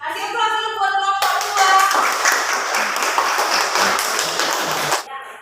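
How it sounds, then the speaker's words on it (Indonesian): A classroom group gets a round of applause, dense hand clapping from many people lasting several seconds after a brief bit of talk, then stopping abruptly. "Kasih aplaus dulu buat kelompok"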